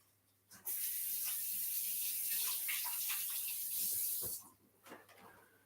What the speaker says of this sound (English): try to wash my hands a lot